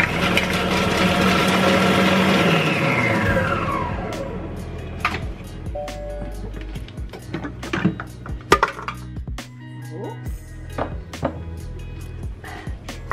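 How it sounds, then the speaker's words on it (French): A food processor chopping a small handful of fresh coriander at speed 7 for a few seconds, its loud motor whine winding down, then followed by scattered clicks and clatter of the bowl and lid. "Et je vais hacher ça 4 secondes en vitesse 7"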